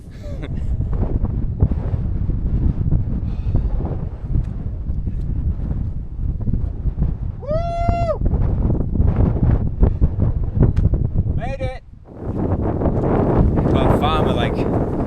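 Wind blowing across open moorland on Dartmoor buffets the microphone with a constant heavy roar, briefly easing near the end, with a few faint tonal calls in the background.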